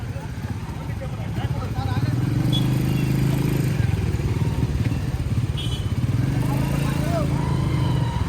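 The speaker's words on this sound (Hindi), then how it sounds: "यहाँ कार्यकर्ताओं ने बाइक रैली का आयोजन किया था।" Motorcycles at a BSP political bike rally in Telangana rumble continuously and close by, with engine drone steady throughout and a general crowd clatter over it.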